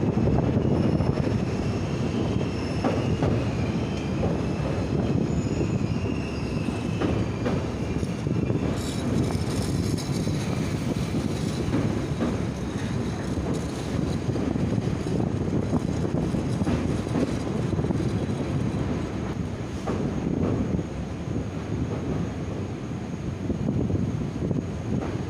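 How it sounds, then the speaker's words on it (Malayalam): Venad Express train crossing the Bharathapuzha river bridge toward Shoranur, heard as a steady, broad rumble with heavy wind buffeting the microphone, holding at a fairly even loudness without clear wheel clicks throughout. "വേണാട് എക്സ്പ്രസ് ഭാരതപ്പുഴയാറ് കടന്ന് ഷൊർണൂരിലേക്ക് കയറുകയാണ്."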